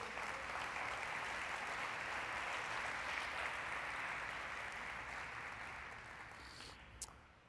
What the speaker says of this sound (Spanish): Vamos a darle un aplauso a Dios.